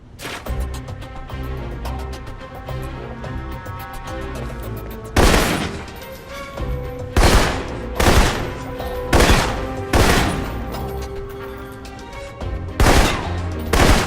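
Assault rifle fire in Alpha Protocol cracks out in loud bursts and single shots, roughly a dozen sharp reports spaced unevenly over a rumbling game background.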